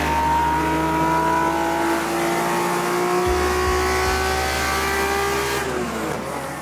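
A Datsun 240Z's engine is revved hard toward 8,000 RPM: a loud, sustained, rising engine howl with layered harmonics, heard close with no talk.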